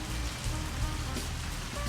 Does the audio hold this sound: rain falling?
yes